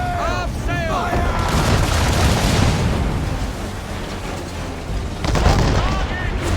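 Ship cannons boom in Assassin's Creed III during a naval battle, with heavy blasts rolling out at the start and again near the end, amid dense battle noise and a shouted voice.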